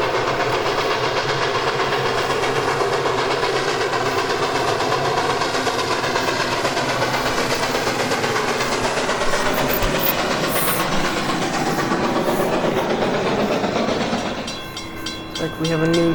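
A train rolls past at night, a long, loud continuous rumble with rhythmic wheel clatter that holds steady before thinning out near the end.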